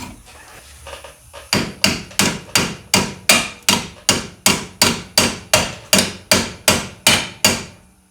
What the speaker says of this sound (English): Never use your snap-on ratchet for a hammer.